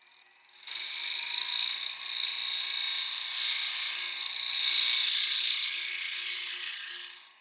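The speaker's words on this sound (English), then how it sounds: "I'm just going to use the skew here to run one final pass over." A skew chisel makes a final pass on a small wooden Christmas box spinning on a wood lathe, giving a steady high scraping hiss that holds for several seconds at close range, no voices.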